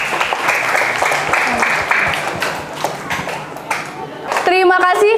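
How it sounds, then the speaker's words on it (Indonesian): An audience at a children's preaching competition in a mosque gives dense, steady applause for several seconds. The clapping fades as a voice begins speaking at the end. "Sekali lagi tepuk tangan untuk kita semuanya."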